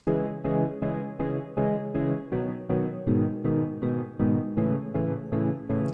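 A repeating loop of sustained, clean chords played in steady, evenly spaced pulses, dry and unprocessed, with no voices.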